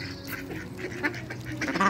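Pet ducks, including one with a bad leg, quacking and honking close by, several overlapping calls over a steady background hum.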